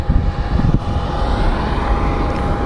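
Prime Air Boeing 737 crossing the runway at Phoenix Sky Harbor airport, a loud, steady jet engine roar with a constant whine, heard close and alone.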